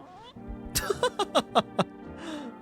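A cat meows several times in quick succession in a horror video game, short high cries close by in a rapid uneven run, with a voice reacting faintly at the start.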